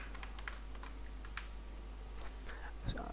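A computer keyboard tapped in faint, scattered keystrokes over a low steady hum, quiet and close, with a brief murmur of a voice near the end.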